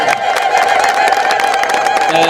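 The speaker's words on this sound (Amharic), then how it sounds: "አንድ ጊዜ እስኪ እግዚአብሔርን እልል ብላችሁ አመስግኑ" A church congregation at a Hamle Selassie celebration in Stockholm, Sweden, ululates in praise, a loud, dense and continuous trilling chorus of many voices that fills the whole moment with crowd cheer.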